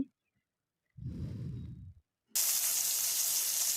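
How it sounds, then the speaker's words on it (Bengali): Koi fish laid into hot oil start a sudden, loud, steady sizzle that sets in sharply after a soft, short rush of sound and then holds close and bright. "তেলটা কিছুটা গরম হয়ে গেলে তো দেখুন আমি মাছগুলো এভাবে একটা একটা করে এখানে দিয়ে দিব"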